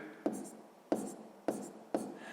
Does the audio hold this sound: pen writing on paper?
yes